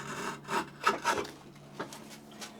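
A freshly sharpened draw knife shaves thin, razor-fine curls from wood, producing several quiet, close rasping strokes in an irregular rhythm, each a brief scraping whisper, with no voices.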